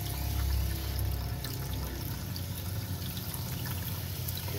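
Pink antifreeze pours steadily from the kitchen faucet of a 2016 19 ft Keystone Bullet Crossfire 1900 RD camper trailer, with hot and cold opened, a continuous close trickling stream.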